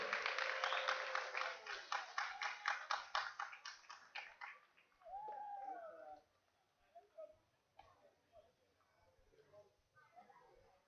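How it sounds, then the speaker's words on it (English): Ballpark crowd applauding at a baseball game between the Barrie Baycats and London Majors, a burst of clapping for a player's birthday that thins out after about four seconds, followed by an announcer talking over the stadium PA. "have a round of applause for Carlos"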